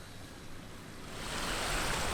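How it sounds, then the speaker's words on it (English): Ocean waves at a beach camp in Nicaragua rush in as a broad, steady wash that swells louder toward the end, with no voices. "being lulled to sleep by the waves."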